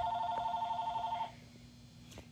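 Telephone ringing in a yarn shop, an electronic warbling ring pulsing steadily for about a second before cutting off, leaving quiet room noise with a faint knock.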